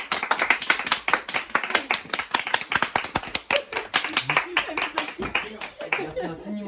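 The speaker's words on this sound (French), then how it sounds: "j'aimerais un teneur d'applaudissements pour Shafik." A small film crew claps for an actor on a set, individual hand claps loud and distinct at first, then thinning out, with voices talking and laughing underneath.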